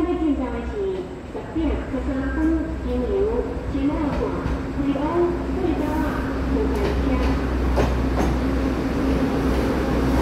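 Train 4813, a three-car set of original-livery DRC diesel railcars, departs Ruifang station on the Shen'ao line toward Badouzi, with a steady low engine rumble and rolling noise and a voice talking over it.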